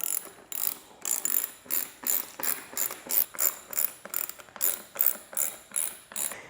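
Ratchet wrench tightening sissy bar bolts on a 2020 Harley-Davidson Low Rider S motorcycle, a steady run of about fifteen quick, evenly spaced clicking strokes, close and clear with no talk.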